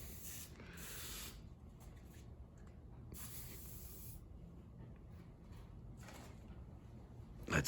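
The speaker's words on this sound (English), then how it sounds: "he gets a WD-40. He sprays it in there." WD-40 sprayed from an aerosol can into a fitting during HVAC and plumbing work, heard as two short, close hissing bursts separated by a quiet pause, with faint room noise between them.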